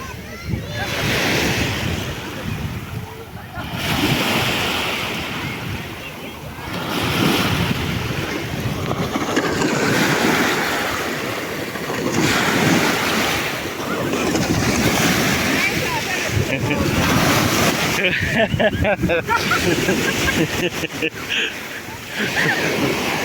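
Water waves wash and surge near the shore in a continuous rushing roar mixed with wind buffeting the microphone, swelling and easing over about twenty seconds while a person talks at times.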